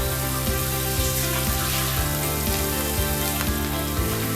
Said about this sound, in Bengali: এগুলোকে আমি একটু জাস্ট ফ্রাই করে নেব